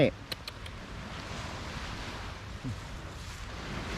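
Sea waves washing onto a beach at Koh Tao in the morning, a steady broad surf wash with wind noise on the microphone and a few faint sharp sounds near the start.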